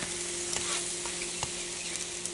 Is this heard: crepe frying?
yes